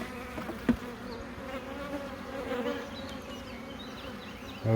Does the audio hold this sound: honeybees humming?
yes